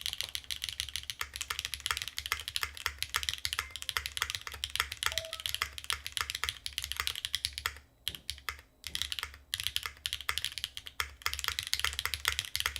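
Fast, crisp clacking keystrokes from a TB-65F mechanical keyboard patter continuously up close, with a short pause and a few heavier strokes midway, no voices.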